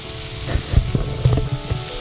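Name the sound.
sautéing onions with green chillies, garlic and ginger paste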